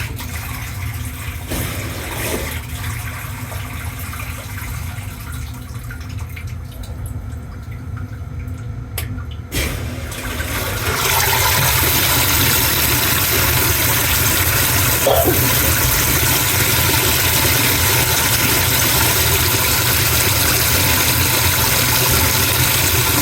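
A new washing machine fills with water: a steady rushing flow at close range that grows louder and fuller about halfway through, continuing alone without any voices.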